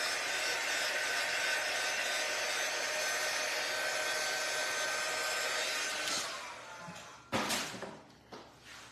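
Close, loud hair dryer drying paint on a DIY lemon craft runs as a steady roar for about six seconds, then trails off, followed by a few handling knocks and rustles.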